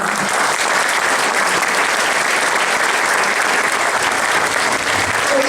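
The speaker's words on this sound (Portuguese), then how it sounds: "Acho que eles merecem o vosso aplauso" Sustained audience applause at a Portuguese event, dense and steady from start to finish, loud and close with a continuous wash of many hands and no pauses.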